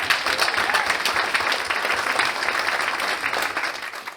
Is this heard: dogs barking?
no